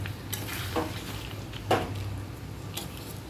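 Chicken korma being stirred in a pot, with a few scraping strokes of the spoon over a low steady simmer, nearby and fairly quiet.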